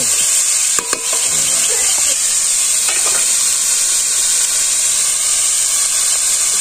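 Green chilies fry in oil with a loud, dense, steady sizzle and hiss, close by, with a few brief stirring knocks near the start and no talk.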